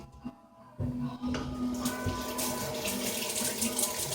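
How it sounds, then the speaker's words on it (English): Tap water runs steadily into a kitchen sink as a dish brush is rinsed of suds, a continuous close splashing flow that starts after a short quiet moment and holds to the end. "Rinse the brush. It's crucial, you know. Get the suds out of there."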